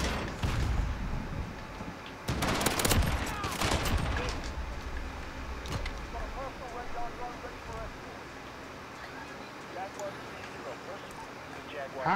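Gunfire from an MP7 submachine gun in a Call of Duty: Modern Warfare Beta team deathmatch, with a dense burst of shots early on and scattered game noise afterward, mixed under a talking player.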